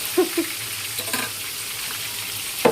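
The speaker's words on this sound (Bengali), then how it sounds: "এখন এটা একটু ভাজি, ভাজার পর আবার এটা আবার একটু কষাবো" Vegetables sizzle steadily in a hot pan, with a few scraping stirs and clinks of a utensil against the pan.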